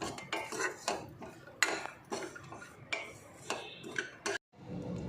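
A metal spoon scrapes and clinks against a pan while cashews and raisins are stirred slowly in ghee, a series of irregular close taps and scrapes with brief pauses.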